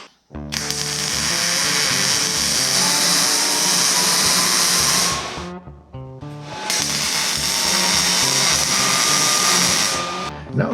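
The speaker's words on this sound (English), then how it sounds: "Now it's time to drill out some holes in some 1/8-inch plate that I can bolt the casters to." An electric drill bores holes through 1/8-inch steel plate for mounting casters on a welding fabrication table, whining loudly and steadily in two long runs separated by a brief pause.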